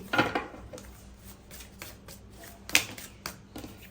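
A deck of cards used for a love-themed card reading is shuffled by hand up close, giving a series of crisp riffling bursts with short gaps between them and no voices.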